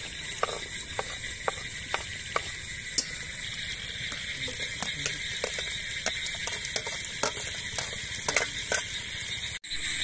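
Green chillies sizzle and fry in a pan for vegetable pulao with a soft steady hiss, punctuated by repeated sharp clinks and scrapes of a spoon stirring against the metal.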